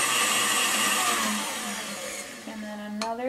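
An electric mixer whirs steadily as it slowly blends sour cream donut batter, a continuous motor drone that shifts pitch slightly toward the end as the speed changes.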